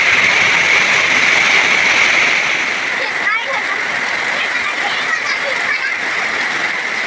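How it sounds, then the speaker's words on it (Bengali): Heavy rain falls during a storm, a dense, loud, continuous roar of rainfall close by with a slight drop in intensity after the first couple of seconds, and a voice talking faintly beneath it. "দেখো কী হারে বৃষ্টি করছে।"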